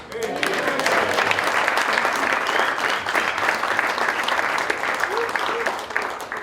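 Wedding guests applaud during a speech at the reception, a full room clapping steadily and fairly close, with some voices and cheers mixed in.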